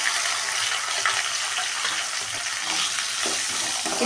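Onions fry with green chillies and curry leaves in a pan for kurma, giving a continuous loud sizzle while being stirred, with occasional scraping and clicking from the stirring.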